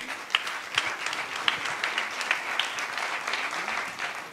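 Audience applause at a trail-running race press conference, steady moderate clapping from a crowd continuing throughout with a few sharper individual claps standing out.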